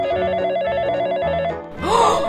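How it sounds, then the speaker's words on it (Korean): A children's toy telephone rings with a looping electronic melody, loud and close, which stops and then gives way to a rising synthetic chime. "전화가 왔네?"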